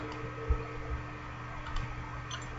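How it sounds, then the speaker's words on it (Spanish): A faint, constant laptop fan whir hums underneath, steady and low, with a few small ticks and clicks scattered through it. "así como si fuera una aspiradora, sí, es mi laptop"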